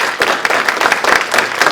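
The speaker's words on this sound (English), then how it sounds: "Can we give a round of applause for Mike, please?" A brief burst of hand clapping from a small group, dense and steady, lasting under two seconds.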